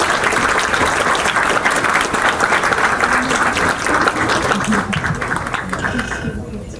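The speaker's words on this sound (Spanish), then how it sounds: "lo recibimos con fuertes palmas" A university audience claps loudly and steadily for a law professor at a constitutional law event, dense sustained applause that fades slightly at the end.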